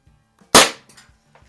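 A single loud, close shot from a PY Hahn model 45 CO2 pistol, a sharp crack with a short fading tail, heard alone with near silence before and after.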